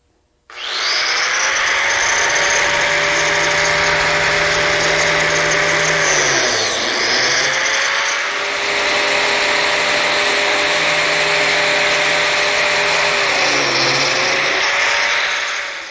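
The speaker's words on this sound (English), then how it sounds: "it was very important to carefully set the distance for the fence on the biscuit joiner to position that slot" A biscuit joiner cuts slots in wood for a shadow box, its high steady whine running loud and close, dipping briefly twice as the blade bites into the workpiece and spooling back up.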